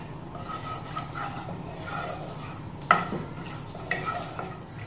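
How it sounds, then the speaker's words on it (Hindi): Ginger garlic paste fries in oil with a soft, continuous sizzle, while a spoon stirring it against the pan gives a couple of sharp metallic clinks. "बस जिंजर गार्लिक के पेस्ट को ज़रा सा ही मिक्स करना है"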